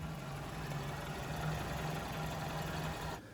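A 1999 Maruti Zen's engine, fitted with a fresh Bosch ignition cable set and spark plugs, runs at a steady close idle with a low throbbing hum and faint rattle, then cuts off abruptly near the end.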